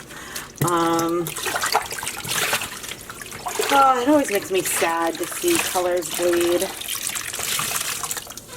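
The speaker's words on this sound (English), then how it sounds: "Let me just pop it in to some tap water." Tap water runs and trickles over tie-dyed yarn in a sink, a continuous splashing flow heard beneath someone talking for most of the recording.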